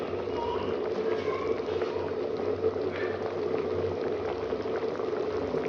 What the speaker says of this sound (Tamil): பொங்கி கொதிக்குதான், நல்லா கொதிக்கட்டும்.